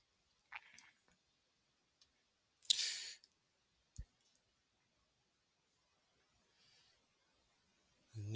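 A computer mouse clicks while working in Microsoft Word, with a few sparse, sharp ticks spread across a quiet stretch alongside a couple of louder rustling bursts, and no talk.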